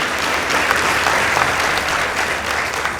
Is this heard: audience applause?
yes